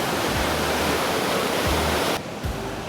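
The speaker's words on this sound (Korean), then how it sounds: "이게 폭포인가 보네요." A waterfall's steady, full roar of rushing water fills the scene at Cat Cat village in Vietnam, broad and continuous, with occasional low thumps from wind or handling.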